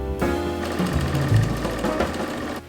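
A domestic sewing machine runs steadily while stitching a dress, a fast even mechanical whir with a low motor drone, close and fairly loud, continuing without pause before cutting off.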